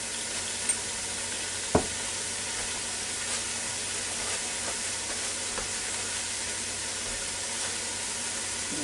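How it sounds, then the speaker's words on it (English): Ground beef sizzles steadily in a Ninja Foodi, a constant frying hiss with a few soft clicks and scrapes, close and moderately quiet with no talking. "now that's starting to sizzle pretty good, so now we'll take this pound of ground beef and put in there"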